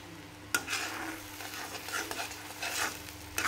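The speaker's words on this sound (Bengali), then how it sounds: "এখানে আমি কড়াইতে তেল দিছি, পেঁয়াজ দিয়ে দিছি করল্লা ভাজির জন্য।" Onions fry in mustard oil in a kadai for a bitter gourd dish, a soft, steady sizzle broken by scraping stirs of a utensil against the wok, close and without talk.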